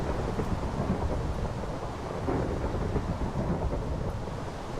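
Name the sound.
thunder of a lightning strike in the video game Minecraft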